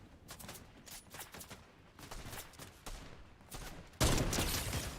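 Rapid gunfire from the video game Fortnite in Zero Build mode, with repeated bursts of shots spread across the clip and a louder, denser volley near the end, no talk.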